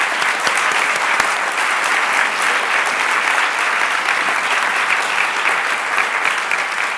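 An audience at a Spanish film event applauds steadily for several seconds, a loud, dense wash of many hands clapping close by, with no talk over it.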